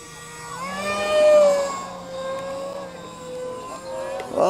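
A model C-47 Dakota airplane taking off from a runway on its maiden flight, its engine drone rising in pitch and swelling loud, then easing as it passes left to right and pulls away.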